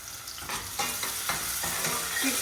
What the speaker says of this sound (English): quick fry